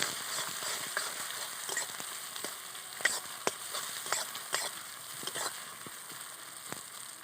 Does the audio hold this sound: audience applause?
no